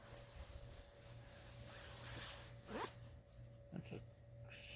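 A solid zipper on the hood of a Costco weatherproof outdoor blanket, pulled in a few quick rasping strokes at close range over a faint background hum.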